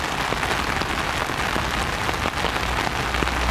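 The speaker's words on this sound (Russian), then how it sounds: "вот дождь сильный дождь идет" Heavy autumn rain drums hard and steady on an umbrella overhead, a dense, close patter with scattered louder drops and no talking.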